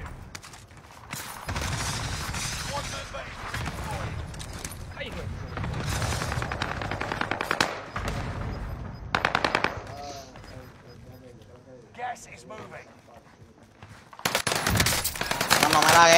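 Rapid bursts of automatic gunfire from a shooter video game rattle in repeated volleys with mechanical clicks between them, loud and close, while players talk over the action.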